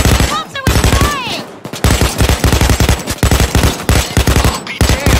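Gunfire from shooting at cops in the Payday 2 VR video game, with rapid repeated bursts close and loud.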